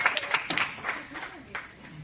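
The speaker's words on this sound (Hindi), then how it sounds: "भाई के लिए भी तालियां।" Audience clapping at a Hindi book launch ceremony, a brief uneven patter of a few hands that fades quickly while voices murmur in the room.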